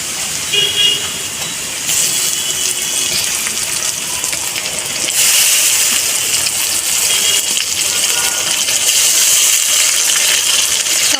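A blended paste of onion, ginger, garlic, tomato, coriander, cumin and dried chilli fries in hot oil for a chicken kosha, giving a steady, fairly loud broadband sizzle that swells partway through and carries on with no talking.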